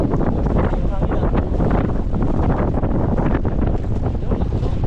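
Strong wind blasts across a boat at sea, a loud constant roar buffeting the microphone with gusty rumbles throughout.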